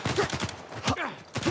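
Rapid gunfire in Uncharted 4 crackles in quick bursts of close, loud shots with a brief pause in the middle, and a faint voice can be heard under the shooting.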